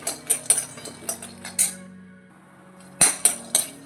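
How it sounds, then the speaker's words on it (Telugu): Peanuts roasting in a pan, sharp clinks and rattles as they are tossed and stirred against the metal, coming in quick irregular bursts close by, with a short quieter gap in the middle. "వీటిని ఇట్లా రోస్ట్ చేసుకోవాలండి."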